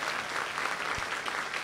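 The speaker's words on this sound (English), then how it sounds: "another round of applause for Professor Dr. Shuji Nakamura." Audience applause after a lecture by a Nobel laureate, a steady, dense wash of clapping from a large crowd that holds at an even level throughout.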